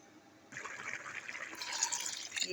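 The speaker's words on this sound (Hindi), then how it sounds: "ये 1 प्याला पानी ले लिया, वो हम चावलों में डालेंगे" A cup of water poured into a pot of salted rice for prawn biryani, a steady gushing pour that starts abruptly and runs for about two seconds, close and fairly soft, with no talking.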